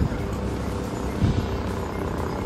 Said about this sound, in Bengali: আর উপরে দেখো হেলিকপ্টার যাচ্ছে